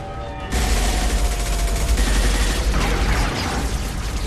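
Sustained gunfire in Mass Effect 2 erupts suddenly after a brief quiet start, then continues as a loud, dense, continuous barrage of rapid shots with no pauses.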